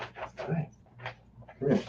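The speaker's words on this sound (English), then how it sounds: "So, this is my dog." A pet dog whimpers and breathes audibly close by, with soft whiny sounds and a louder whine at the end, while a person speaks to it briefly.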